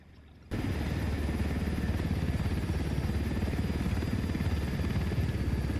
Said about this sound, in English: I stole their chopper full of uranium